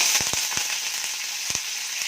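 Curry leaves sizzling in hot oil while cooking stuffed ridge gourd curry: a steady loud hiss with scattered sharp crackles and pops, close and without talk.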